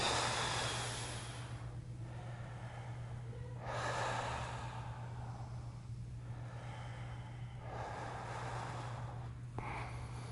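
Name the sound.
deep belly breathing during yoga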